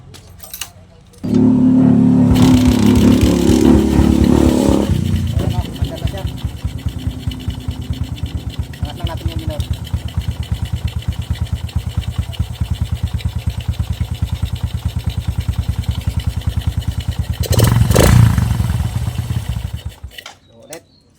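A motorcycle engine, freshly fixed after its clogged, hard-starting carburetor was cleaned, catches about a second in and idles steadily and loudly close by, revs briefly near the end, then cuts off.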